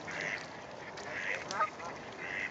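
Ducks quack in a few short, raspy bursts against steady outdoor background noise, moderately close.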